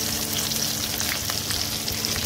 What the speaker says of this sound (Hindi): उसके बाद इसमें हम लहसुन डालेंगे।